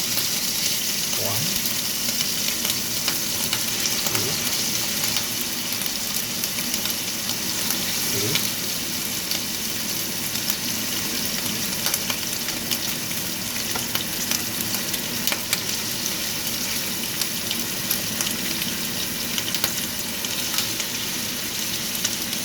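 Pork liver bistek frying in a pan, a steady loud sizzle with occasional stirring scrapes and faint background noise throughout.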